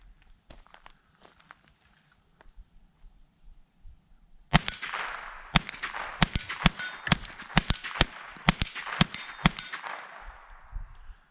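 Winchester Wildcat .22 LR semi-auto rifle firing about ten sharp shots in quick succession, each crack followed by a bright metallic ring of the round striking steel targets, loud and close after a few seconds of quiet handling.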